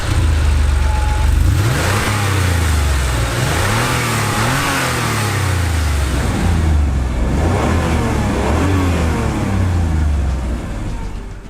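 A Porsche 944 engine revs in repeated rising and falling sweeps over a rumbling idle, loud and close, with sharp throttle blips climbing and dropping back several times and no voices.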